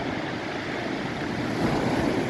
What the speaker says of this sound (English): the waves on this end are a lot more stronger